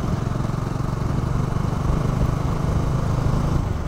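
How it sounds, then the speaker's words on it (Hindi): A motorcycle is ridden through a forest in light rain, its engine a steady, loud, close drone that holds evenly throughout without any talking. "हल्के बारिश में मज़ा आ रहा है बाइक राइडिंग करने में"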